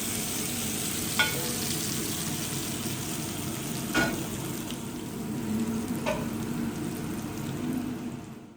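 Hot oil with a tempering for karhi sizzles steadily and loudly, crackling and hissing without a break, with a few sharper pops along the way. No one speaks.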